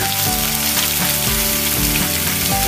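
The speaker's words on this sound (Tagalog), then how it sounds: "igigisan natin yung ating garlic. Totostahin natin siya, toasted garlic" Toasted garlic frying in a pan makes a loud, continuous crackling sizzle with dense popping, steady and close, and no one speaks.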